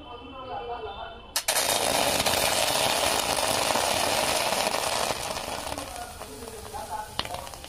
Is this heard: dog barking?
no